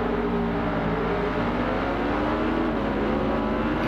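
A 50-year-old motorcycle engine in the racing game Ride 4 drones steadily and loudly at a constant pitch, heard from the rider's seat behind the fairing windscreen, with no talk.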